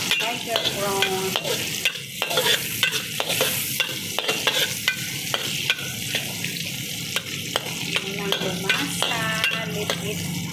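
Tiger prawns cook with chili and garlic in a hot pan, giving a steady close sizzle broken by frequent scraping clinks as a utensil stirs them, with no voices.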